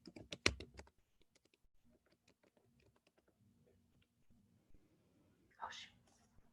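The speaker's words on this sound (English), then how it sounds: "if you hear me typing" Fingers type on a computer keyboard in faint, irregular bursts of soft clicks, with a short stretch of quiet voice at the start and a louder rustle near the end.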